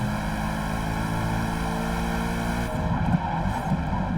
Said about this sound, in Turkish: Porsche'la tam gaz ilerlemeye